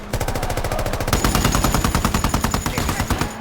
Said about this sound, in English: The battlefield turns into chaos as explosions and gunfire erupt all around them.